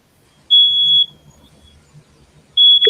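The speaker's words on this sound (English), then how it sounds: "Somebody's smoke smoke alarm." A shrill, steady smoke alarm beep sounds twice, each tone lasting about half a second, with faint low rumbling in between.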